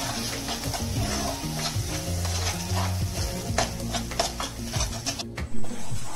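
Sauce with chili powder and salt is stirred and reduced in a pan, with loud close sizzling bubbling under repeated scraping strokes of a utensil against the metal.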